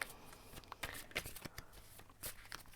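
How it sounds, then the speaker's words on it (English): A deck of tarot cards is shuffled close up and quietly, with soft papery riffles and taps coming in irregular bursts. "But I'm gonna shuffle now."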